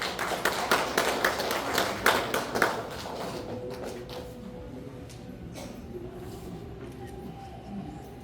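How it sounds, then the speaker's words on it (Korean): An audience at a residents' briefing on a redevelopment project applauds, with a dense burst of clapping that thins out over a few seconds into scattered claps and room noise. "허경원 대표이사님을 큰 박수로 맞이해 주시기 바랍니다."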